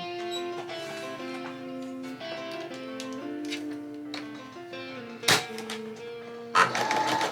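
A sewing machine stitches the side seam of a denim scrunchie, whirring in short bursts with shifting motor pitch and a few sharp clacks near the end.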